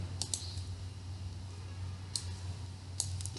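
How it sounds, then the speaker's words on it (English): A computer mouse gives a few sharp, faint clicks in SAP software, spaced apart over a steady low hum. "Click on continue button."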